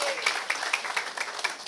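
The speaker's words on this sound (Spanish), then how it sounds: "Un aplauso para mis modelos." Audience applause for models at a church sermon, a quick burst of scattered claps with a few sharper individual hits, moderately loud and fairly close.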